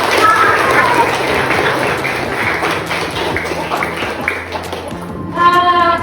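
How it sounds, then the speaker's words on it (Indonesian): A classroom group claps steadily for several seconds, fairly loud and close, before the applause fades and a voice briefly starts speaking. "beri tepuk tangan untuk kita semua"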